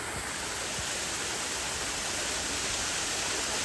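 Icy snowmelt stream rushing through the mountains on the Adi Kailash route, a loud, dense, continuous roar of flowing water with no pauses, close by and alone.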